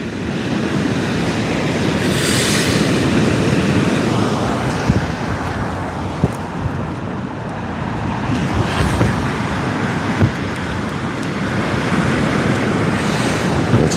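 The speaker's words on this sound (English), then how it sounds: "It's windier than it's forecast to be." Strong wind roars steadily over the open sea during kayak fishing, a loud broadband rush with gusting swells and buffeting on the microphone, without talk.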